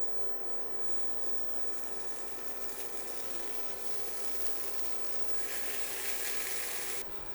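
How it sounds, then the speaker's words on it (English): Hash browns frying in butter in a pan give off a soft, steady sizzle that is faint throughout and grows slightly louder near the end, with no talking. "And now I'm going to put in my hash browns."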